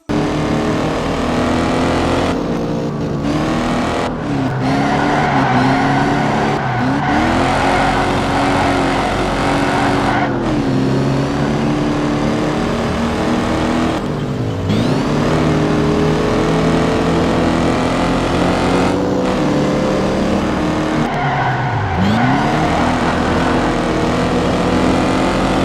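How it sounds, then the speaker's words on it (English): Ford Mustang Mach 3 engine racing in the video game Need for Speed 2, a loud continuous engine drone that rises and dips repeatedly with gear changes over about twenty-five seconds, with no talk. "The Mustang Mach 3 appears in Need for Speed 2."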